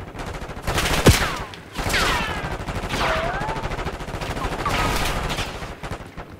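Gunfire in Call of Duty Black Ops 6 multiplayer free-for-all on the Babylon map: a sharp close shot, then repeated bursts of rapid fire through the clip, with no talking.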